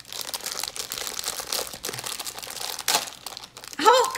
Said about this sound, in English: These things are a lot easier just to rip open